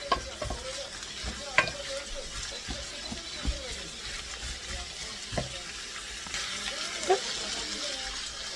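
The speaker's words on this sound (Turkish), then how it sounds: "Şöyle biberim de biraz kavrulsun." Peppers and meat frying in a home kitchen pan, a soft steady sizzle broken by occasional scrapes and clacks of stirring, with running water and faint background sounds.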